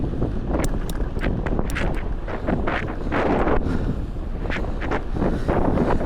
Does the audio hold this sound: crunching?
no